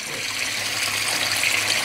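Water in an aquaponics system pours steadily down into a tank, a loud, continuous splashing rush heard close up without pause.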